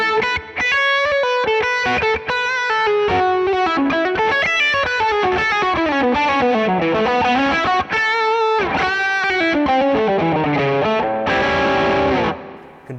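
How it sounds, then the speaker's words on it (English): High-gain electric guitar through a Fractal Carol Ann Tucana amp model with both gains cranked: loud, saturated distorted notes and runs played continuously, ending on a sustained chord, with no talking. "can do some really cool high gain stuff as well"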